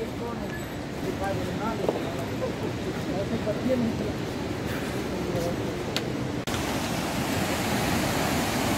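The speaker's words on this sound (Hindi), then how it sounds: "दूध की धार बहती हुई और एक शानदार झरना, शानदार" A mountain waterfall and rushing stream on the trek to Kedarnath give a steady, loud, broadband roar of falling water that runs unbroken through the whole stretch, close to the listener.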